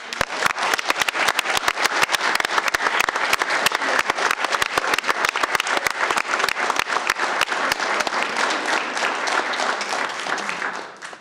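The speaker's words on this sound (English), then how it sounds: "let's give them a big round of applause." A long round of applause for athletes in a city council chamber, dense, loud clapping from many people running steadily for about ten seconds before tapering off at the end.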